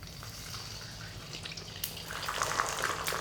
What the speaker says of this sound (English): we're just going to leave them to kind of fry for like a few seconds